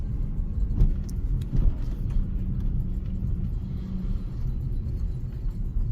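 A Toyota Soarer's V8 engine idles steadily after a repair, a low, even rumble with a faint light rattle, heard close and continuous with no talking.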